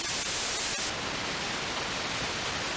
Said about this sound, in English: So synthesizers can also generate noise. Most commonly, you probably know white noise